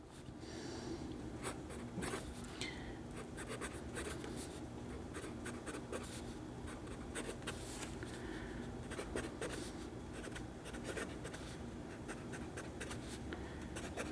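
A Diplomat Magnum fountain pen with a medium nib scratches and scrapes across notebook paper in quiet, continuous close strokes and taps with no talk.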